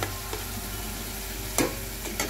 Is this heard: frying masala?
yes